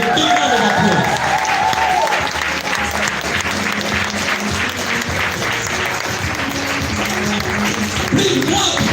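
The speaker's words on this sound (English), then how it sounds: "et's bring on stage Mr. Solomon and Abazimwe with a big round of applause." An audience at a recognition event breaks into a big round of applause, dense and loud clapping that sustains for several seconds, with music and a few voices faintly underneath.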